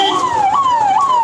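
An ambulance siren wails loud and close on a street, its tone sweeping up and falling back in a steady repeating cycle.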